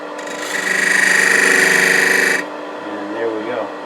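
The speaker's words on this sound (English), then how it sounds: "come in there with a negative rake scraper, get a little cleaner shoulder" A negative rake scraper cuts a wood box on a lathe, giving a loud, steady buzzing chatter close by for about two seconds before it cuts off, followed by quieter rubbing and fading spin-down.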